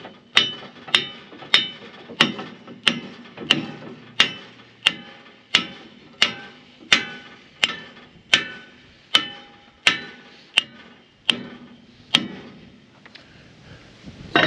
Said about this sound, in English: I know I need a bigger hammer